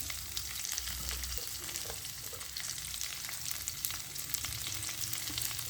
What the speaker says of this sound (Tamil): இனி இதோட வெங்காயத்தை போட போகிறேன்